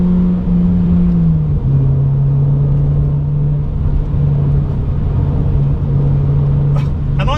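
Engine of a Honda Accord CL9 revving into VTEC during an overtake, heard from inside the car as a loud, steady rising drone and road rumble that shifts pitch once early on and holds.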